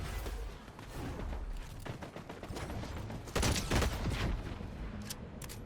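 Rapid gunfire bursts from a Fortnite match, a dense crackling fusillade with mechanical clatter that swells louder near the end, with no talking over it.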